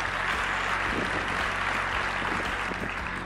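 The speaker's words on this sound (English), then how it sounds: "you just clapped for lawyers" An audience claps for lawyers at a motivational talk, producing dense, continuous applause that fills the room at an even level from start to end.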